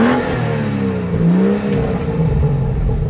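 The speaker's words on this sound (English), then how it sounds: "Let's do a little rev time." BMW 435i Convertible M Sport from 2017, engine blipped and revved a few times with rising and falling pitch, loud and close, no talking over it.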